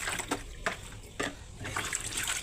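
Water running for hand-washing laundry, flowing steadily from a tap or hose into a basin with splashing bursts, fairly close and continuous with no talk.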